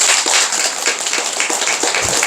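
Audience applause in a hall during a Buddhist dharma talk on the Heart Sutra: steady, dense clapping that runs throughout without a break.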